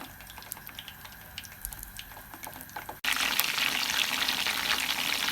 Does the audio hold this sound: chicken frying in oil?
yes